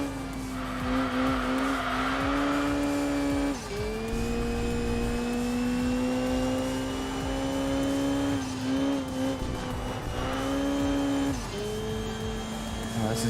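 A four-wheel-drive race car in Enthusia Professional Racing holds a loud, steady engine drone with pitch dips at gear changes and a long tire squeal as it slides at the edge of grip.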